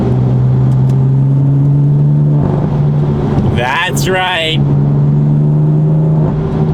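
A BMW M4 fitted with a new exhaust idles with a deep steady drone, then revs sharply for a moment with crackling pops before settling back to idle, with a brief spoken remark.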